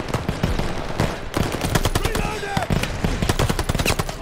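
Machine guns lay down suppressing fire during a D-Day airborne assault in Call of Duty: Vanguard's Operation Tonga mission: loud, close, rapid bursts with overlapping shots and battlefield chaos.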